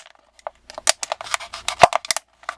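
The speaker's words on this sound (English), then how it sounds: "so we're going to cut the cap off" Scissors snip through a plastic bottle to remove the cap, a close series of short sharp cutting clicks in an uneven rhythm, with no talking.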